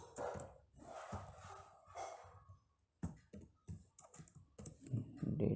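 Code is typed on a computer keyboard in short bursts of quiet key clicks with small pauses between them, faint and close.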